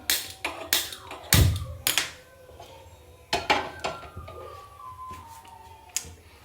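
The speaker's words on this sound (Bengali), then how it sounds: "তো এবার গ্যাসটা ধরিয়ে দিই" A gas stove is lit in a home kitchen, producing a series of sharp clicks and taps from the igniter and knob, with light metallic clatter of cookware nearby and no talking.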